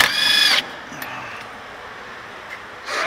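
An impact gun fitted with an impact swivel zips loose a caliper bolt on a Toyota truck in a short, loud rattling burst, then falls quiet before a second brief burst starts.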